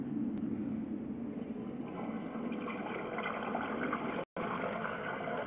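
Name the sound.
toilet flush water flowing through sewer pipe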